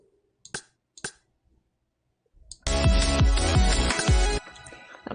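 Percussion samples auditioned in music software: a few soft isolated clicks, then a dense loud stretch of layered drum hits with repeated booming low thumps lasting about two seconds before cutting off, no voices.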